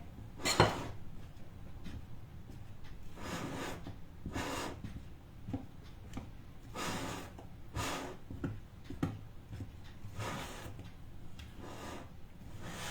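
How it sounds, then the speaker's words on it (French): Flour is mixed into batter for a chocolate yule log with a utensil scraping a bowl in repeated soft strokes, each a brief, close swish roughly every second or two. "Bien mélanger la farine."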